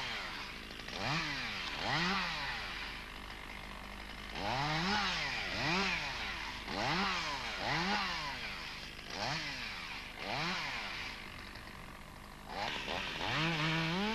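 A chainsaw revs up and down in repeated bursts, its engine pitch rising and falling rhythmically as branches are cut from a felled trunk.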